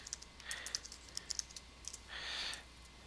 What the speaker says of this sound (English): If I type in here MCHS Bowling League